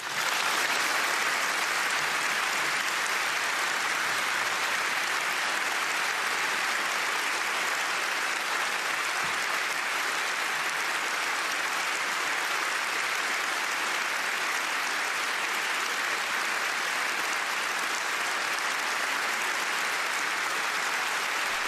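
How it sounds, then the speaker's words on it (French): A parliamentary chamber erupts in dense, sustained applause for Simone Veil, loud and unbroken for over twenty seconds with no talking over it. "que la force de vos applaudissements pour son combat et pour sa cause tonne plus fort encore que ces insultes"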